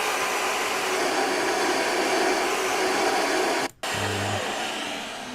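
An Electrolux vacuum cleaner runs steadily at full suction, a loud continuous whooshing drone with a brief cut-out near the end, then a lower hum.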